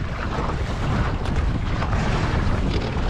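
A sailboat tacks in steady wind, with continuous loud wind buffeting the microphone over rushing water and waves. The noise stays dense and even throughout, and no one speaks.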